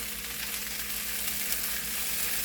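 Puffed rice poha (mamra potli poha) cooking slowly in a pan over a low gas flame, giving a steady, soft, even sizzle close by with no talking.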